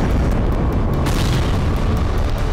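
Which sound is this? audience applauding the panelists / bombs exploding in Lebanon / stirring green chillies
bombs exploding in Lebanon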